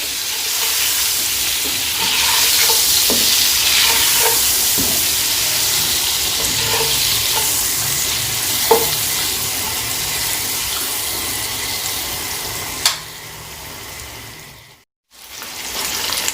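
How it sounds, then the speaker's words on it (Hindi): Boiled eggs fry gently in a pan of hot oil for egg biryani, a continuous bright hiss and sizzle with small pops and a few utensil taps, cutting out briefly near the end. "हल्के हाथों से अंडों को फ्राई कर लें"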